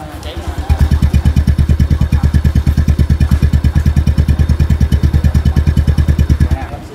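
Honda Wave 125i motorcycle engine, a red Thai-market bike, runs at a steady idle with a fast, even thumping pulse, loud and close for several seconds before cutting off.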